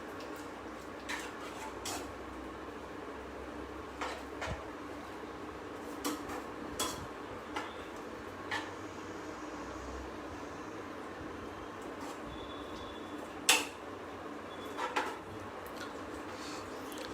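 Cheese soup stirred in a pan over a low flame: quiet, sparse clinks and scrapes of a utensil against the pan at irregular intervals, with one sharper knock, all over a faint steady background.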